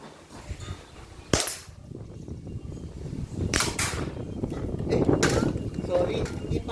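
An airsoft pistol, a Staccato or Glock 17 Gen5 replica, fires at about five meters outdoors, giving a few sharp, separate cracks spaced seconds apart, with people talking between shots.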